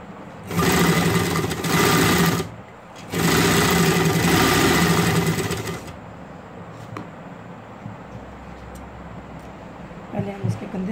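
Domestic sewing machine stitching the shoulder seams of a baby frock, loud close motor whir in two long bursts with a short pause between, then fading to quieter handling noise and light clicks.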